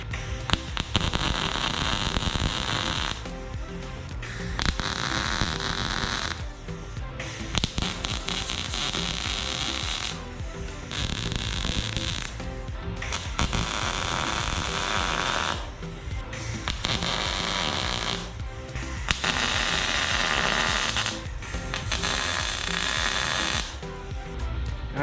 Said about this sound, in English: Now we're gonna grab the welder and weld it in place.